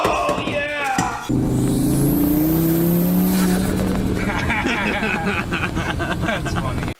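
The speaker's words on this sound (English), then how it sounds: "We're getting passed by the sheriff." A sheriff's car passes close by on a road, a loud rising and falling engine rush with a whooshing sweep over a few seconds, while people talk over it.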